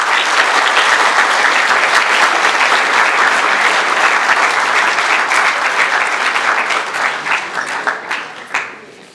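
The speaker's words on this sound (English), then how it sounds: "Please give her a round of applause." An audience gives a speaker a big round of applause at a talk, dense clapping from a crowd that holds steady and then thins into scattered claps as it fades.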